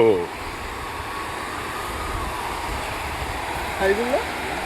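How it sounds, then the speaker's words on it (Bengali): Steady broadband wash of sea waves at Digha beach before dawn, a continuous roar without distinct breaks, with brief voices talking near the start and again near the end. "তো সমুদ্রটা গিয়ে দেখি, এখান থেকে আওয়াজ পাওয়া যাচ্ছে সমুদ্রের।"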